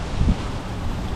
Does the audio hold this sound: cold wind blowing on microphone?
yes